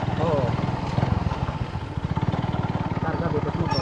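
A motorcycle engine putters with a rapid, steady rhythm close by, loud and continuous, with faint voices mixed in.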